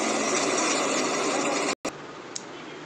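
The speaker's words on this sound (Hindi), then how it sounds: "ट्रैक्टर से बस को खींच करके आगे ले जाया जा रहा है" A tractor engine drones steadily while towing a bus along a flooded, waterlogged road in rain-hit Jaipur, a dense rumbling mid-range hum that abruptly cuts out and drops to a much quieter tone.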